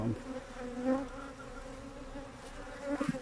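Honeybees buzz in a steady, droning hum during a hive inspection, a close, continuous swarm sound with small swells in loudness and no voices.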